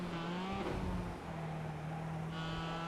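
A Mazda MX-5 race car in iRacing at Circuit of the Americas holds a steady droning engine note through the final corner, its pitch dipping and then settling and climbing again, with a constant broad roar underneath.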